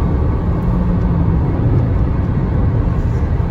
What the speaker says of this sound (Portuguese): Cara, basta tocar no acelerador, só encostar no acelerador.